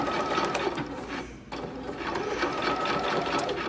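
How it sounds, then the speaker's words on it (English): A sewing machine runs steadily as it backstitches at the start of a bust dart, its close, continuous mechanical whir broken by one brief pause about midway. "So I'm going to start by backstitching just a little bit."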